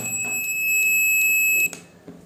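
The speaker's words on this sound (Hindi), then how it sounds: "अब ये बजर मोड से आवाज़ सुनिए" A multimeter in buzzer (continuity) mode sounds a loud, steady electronic tone that holds for about a second and a half and then cuts off, with a few faint clicks around it.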